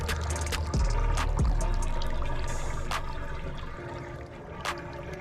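Hot water pours steadily into a 108-degree hot spring pool, a close, continuous rush and splash with a few brief knocks and no talking.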